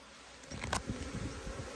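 Steady low buzzing of honey bees swarming close by at a hive after smoking, a continuous hum with no voices.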